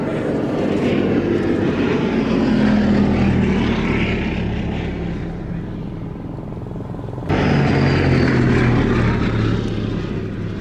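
A Gloster Gladiator propeller biplane flies at the Shuttleworth air show, its droning engine loud and sustained with a slowly shifting pitch as it passes, and a faint announcer voice underneath.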